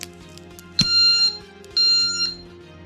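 A bike alarm lock sounds two sharp, loud electronic warning beeps, each about half a second long and separated by a short pause, heard alone at close range.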